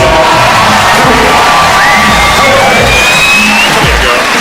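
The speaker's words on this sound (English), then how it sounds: "give her a big round of applause, y'all" A comedy-show audience from a 1989 live stand-up performance roars continuously with cheering, whoops and yells, loud and sustained with no pause throughout.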